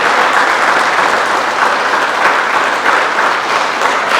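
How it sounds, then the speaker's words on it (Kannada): A lecture audience on Kumaravyasa breaks into loud, sustained applause, a dense wash of clapping hands filling the hall steadily for several seconds with no talking over it. "ಇದಕ್ಕೆ ನೀವು ದೊಡ್ಡ ಚಪ್ಪಾಳೆ ಹೊಡಿಬೇಕ್ರಿ"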